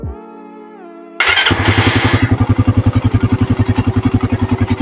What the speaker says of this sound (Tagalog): Start lang natin yung motor.